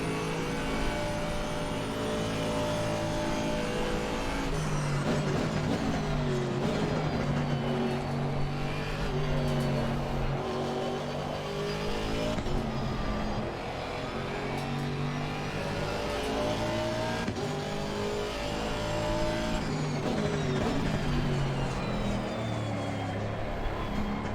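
Race car engine in Assetto Corsa Competizione, loud and continuous, climbing and falling in pitch as it revs through the gears around the track, with no talk over it.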